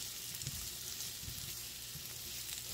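A samosa filling being mixed in a hot pan with a masala of coriander seed, fennel and cumin seed: a soft, continuous sizzle with a few faint stirring knocks, fairly quiet, with no talking.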